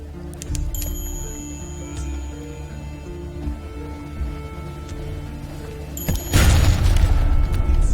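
Deck gun fire aimed at an enemy ship in the naval video game Sunless Sea: a heavy, close burst of booming noise rises sharply near the end over a steady low game hum and faint ticking tones.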